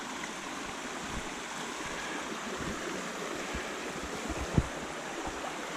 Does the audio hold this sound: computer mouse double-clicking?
no